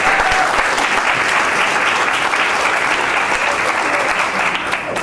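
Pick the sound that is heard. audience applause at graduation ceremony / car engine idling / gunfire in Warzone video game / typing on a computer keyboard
audience applause at graduation ceremony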